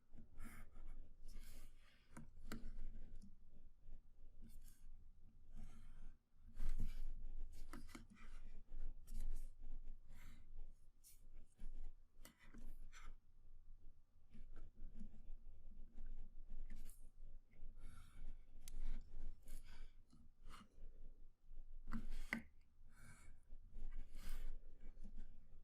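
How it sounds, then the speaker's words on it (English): A pencil scratches across paper in quick, repeated strokes, darkening drawn lines; close, soft and faint scribbling bursts with brief pauses between them. "let's go ahead and solidify these lines by drawing them in darker"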